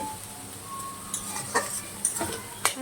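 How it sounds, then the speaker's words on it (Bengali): Chopped tomatoes are stirred in a frying pan, a utensil scraping and clinking against the metal in a few soft strokes over a faint, steady sizzle, with no talking. "টমেটোর থেকে একটা জল ছাড়ে, তার জন্য একটু নাড়িয়ে নিচ্ছি আমি।"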